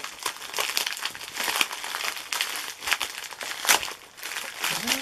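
Crinkly opaque plastic package being opened, with dense, continuous crackling and crumpling across several seconds, close and moderately loud, with short sharp rustling bursts throughout.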